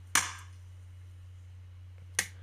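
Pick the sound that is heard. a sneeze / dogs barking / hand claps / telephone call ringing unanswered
hand claps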